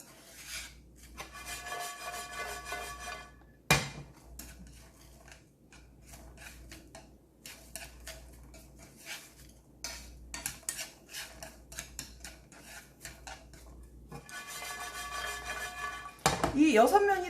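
Bread croutons for a Caesar salad toast in a pan and are stirred often, giving repeated dry, rasping scrapes and shuffles against the pan in steady bursts, close by, with no speech.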